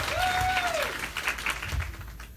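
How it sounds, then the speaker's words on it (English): A conference audience in Venice, Florida breaks into loud, dense applause that starts at full strength and slowly thins out, with a crowd murmur underneath. "Can we give Lucas a round of applause?"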